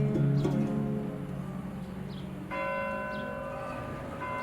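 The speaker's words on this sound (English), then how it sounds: "in Isfahan, church bells still ring out in the Armenian quarter even today" Church bells ring in the Armenian quarter of Isfahan, Iran, with sustained resonant tolls, one loud strike at the start and a fresh strike midway, their tones ringing on and overlapping.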